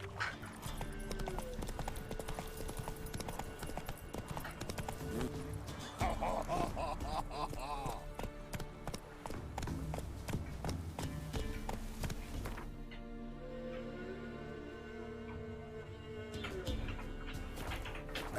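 Roach the horse gallops in The Witcher 3, a long run of fast, steady hoofbeats up close, with game music and ambience underneath and the pace easing toward the end.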